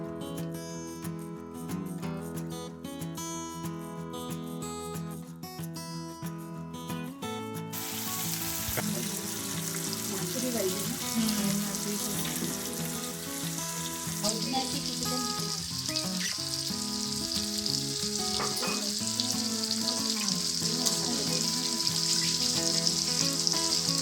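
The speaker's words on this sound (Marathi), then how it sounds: "दुसऱ्या बाजूने पण पापलेट पाच मिनिटसाठी फ्राय झाले आहेत" Pomfret fish fries in a pan with cilantro, Agri-Koli style, giving a continuous hissing sizzle that swells after the first few seconds and holds steady, close and fairly quiet, with no talking.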